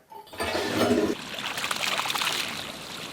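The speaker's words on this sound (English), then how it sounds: "watch what happens every time you flush the toilet" A toilet flushes in an apartment where sludge backs up, giving a rush of water followed by steady gurgling, trickling flow that fades slightly toward the end.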